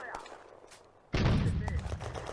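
A tank cannon fires an incendiary shell in a World War II Eastern Front video game, a single sudden loud boom with a sustained rumbling tail. Quieter ambient game sound comes just before the shot.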